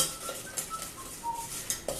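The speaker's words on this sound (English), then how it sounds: "And we're just going to stir that up." A spoon stirring a mixture in an unheated pan, soft scraping and light clinks of utensil against metal, close and fairly quiet over a couple of seconds.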